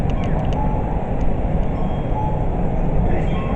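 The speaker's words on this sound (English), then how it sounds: "So I think there's the train station. I'll take you in the train station for a moment." Busy train station ambience in Tokyo, Japan: a steady low rumble of rail traffic and crowd murmur with faint clinks and chimes, continuous and fairly loud throughout.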